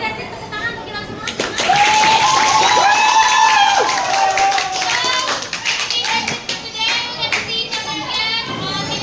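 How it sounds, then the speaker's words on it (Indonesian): A school class claps and cheers together in a classroom, a burst of mixed clapping and excited children's voices that gradually thins out, fairly loud and close. "Tepuk tangan untuk kita semua."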